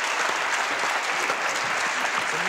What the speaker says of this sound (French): Applaudissements pour Mario Loraci